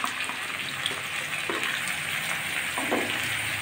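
Potatoes and green banana frying in a pan with green chili paste, a steady soft sizzle and crackle running through with a couple of brief stirring scrapes.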